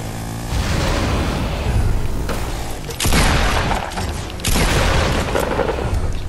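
Heavy gunfire and explosive booms from a Fortnite match, loud bursts of rapid shots with a sharp blast about halfway through and another soon after, no talking.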